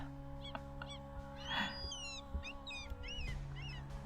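Seagulls call from a distance on the Arctic coast of Norway, a series of short, faint, rising-and-falling cries repeated over a few seconds above a steady low hum.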